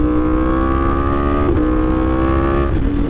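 A Suzuki GSXR1000 liter-bike engine pulls hard at loud, close range with a steady high-pitched whine, its tone rising and dipping briefly at quick-shifter gear changes, no talking.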